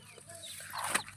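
Hen clucking on a farm where native chickens are hatching eggs, a short run of close clucks building to one louder call near the end, with no one speaking.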